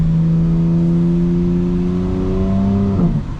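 2025 BMW M4 Competition engine pulling strongly in one gear, its tone climbing steadily before a quick gear shift drops the revs near the end; loud and close.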